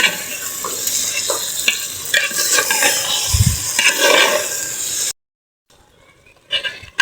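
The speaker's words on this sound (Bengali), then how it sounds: "ভালো করে ভেজে নিই" Meat for biryani sizzles and is stirred in a pot, with loud close scraping and frying for about five seconds, then a near-silent pause and a brief clatter at the end.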